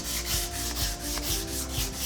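A power sander works steadily across a wooden surface being given a faux French antique finish, a close, continuous gritty rubbing hum with a slight rhythmic pulsing from the back-and-forth strokes.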